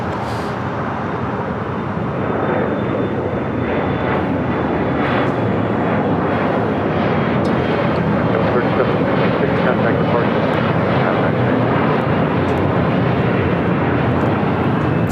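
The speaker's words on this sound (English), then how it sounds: "3766 taking off to Tucson, Arizona on an E175" A Delta Connection Embraer E175 takes off from runway 25 right at LAX, a loud, continuous jet roar that holds steady and fills the whole span without a break.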